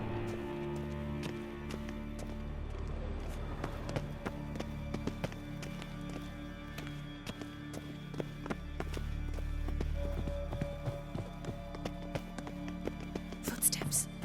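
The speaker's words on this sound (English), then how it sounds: "Footsteps." Steady, quiet footsteps tap along in Witcher 3, a regular series of light thuds with faint ambient murmuring behind them.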